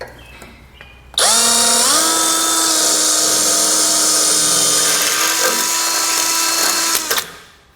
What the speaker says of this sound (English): So I'm going to go ahead and drill out the pilot hole in all 4 locations